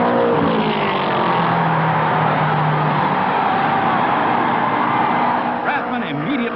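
A 1960 racing car roars past at speed in an old, muffled recording, its engine a steady loud drone with a rising and falling pitch sweep near the end, while a narrator talks over it.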